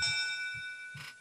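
A notification bell chimes twice, a bright ringing tone with a short gap and then a second strike near the end, heard alone and fairly soft.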